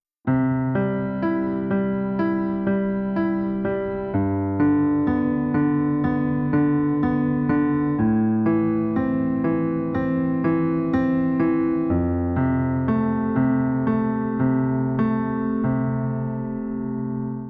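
Piano plays broken chords, notes rippling up and down in a steady repeating pattern as the harmony shifts every few seconds, with no voice.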